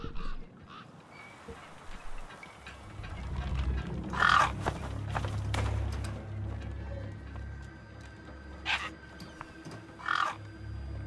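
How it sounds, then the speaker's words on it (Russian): Crow-like bird cawing in the video game Beyond a Steel Sky, a few harsh calls rising over a low rumbling ambient bed, one near the middle and two later, fairly clear but not loud. "Птичка, ты кто?"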